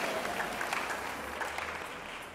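Congregation at a French-language church service applauding and cheering, a steady, fairly soft wash of clapping with scattered voices lasting a couple of seconds.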